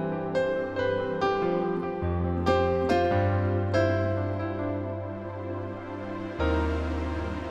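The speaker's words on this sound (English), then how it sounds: "You know, it's a nice piano." A sampled piano from a Kontakt Keyscape library plays rich sustained chords and single notes, struck in a loose rhythm and left ringing, with a fresh chord near the end, clear and full with no talking.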